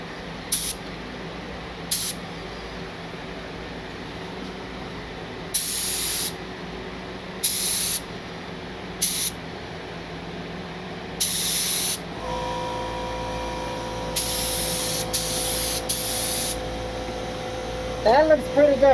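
A paint spray gun set near 30 psi hisses out thin coats of Rustoleum paint in repeated short bursts and a few longer sprays, close and loud, with a steady hum underneath.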